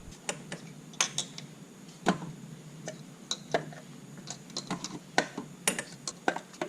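Wrench turning an oil line fitting on a turbo Miata: quick, faint metallic clicks and ticks in irregular bursts, like a ratcheting tool working up close in a quiet space.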